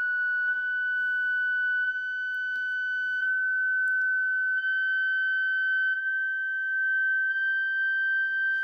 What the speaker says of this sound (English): Here I am ready to do distortion testing